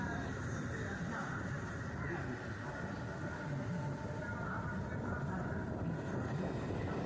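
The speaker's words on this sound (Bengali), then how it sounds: "আমাদের ট্রেন ছেড়ে দিল সোদপুর রেলওয়ে স্টেশন" An electric Barrackpore local train runs out from Sodepur station with a low, steady rumble and rattle of carriages, fairly quiet and even throughout.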